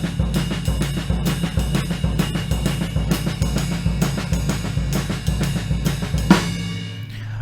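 A jazz drum kit exercise played at a brisk tempo: a steady cymbal ride pattern with regular kick and snare accents drives on evenly, close and loud, ending with a final crash that rings out alone.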